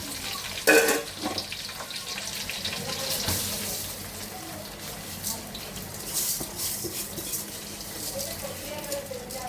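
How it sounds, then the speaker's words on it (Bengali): Running water in a kitchen as ingredients are washed and drained, a steady flowing hiss with a sharper splash near the start and small splashes throughout, close and moderately loud. "তাহলে ধুয়ে পানি ঝরা দিচ্ছি"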